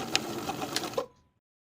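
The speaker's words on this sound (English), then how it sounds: "we're going to top stitch along the bottom of the cuff for about a 1/2 inch distance to secure that" A sewing machine top stitches along the bottom of a jacket sleeve cuff in a short, quick burst of rattling stitches that stops abruptly, leaving silence.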